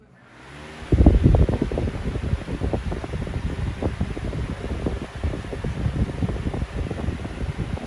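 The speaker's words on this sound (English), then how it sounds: "Let's run it. It's on high speed." A 1997 vintage Lakewood fan on high speed starts up and runs steadily, a loud close whooshing rumble of moving air with a fluttering texture, continuous with no talking.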